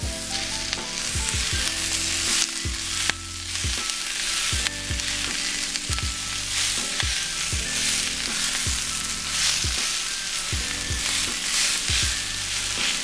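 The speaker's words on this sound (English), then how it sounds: "you want to move it around so that you give the dandelions a chance to wilt" Dandelion greens sizzle and fry steadily in a hot pan for shakshuka, with repeated stirring scrapes and clacks of a utensil against the pan, loud and close throughout.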